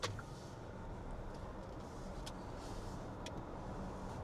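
A Hyundai Ioniq 9, a large car, drives and accelerates with a steady faint road and motor hum, quiet and continuous throughout, with no talk.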